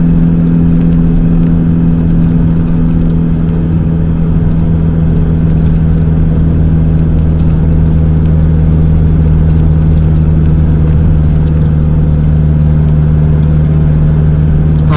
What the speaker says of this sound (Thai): เขาปักเนินแรกนะครับ ผมก็ขึ้นเกียร์สามนะ เกียร์สามยาว ๆ ครับ